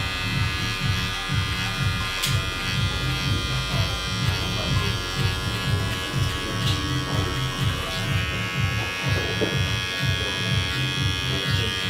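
Steady electric hair clipper buzz runs throughout as it cuts hair for a fade, with a close, continuous hum and slight fluctuations as it moves, with no voices over it.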